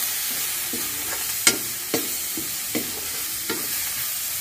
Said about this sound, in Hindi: अब सभी को डालकर अच्छे से मिला ले रहे हैं